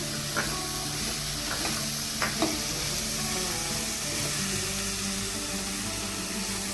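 Spiced peanuts with lemon juice frying and being stirred in a pan: a constant bright sizzle with a few soft scraping spoon strokes near the start, close and steady, with no talking.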